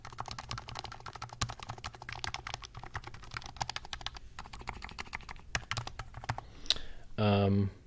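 Rapid typing on a keyboard fitted with PBT keycaps made in Taiwan, a steady stream of close, crisp clacks running throughout, with a short tonal beep or voice near the end.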